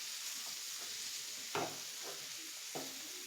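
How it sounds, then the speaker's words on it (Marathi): Masala is stirred into already-cooked cluster beans in a pan, a quiet constant sizzle with a few distinct scrapes of the spoon against the pan, close and soft, with no voices. "इकडे हा मसाला मिक्स करून घ्या"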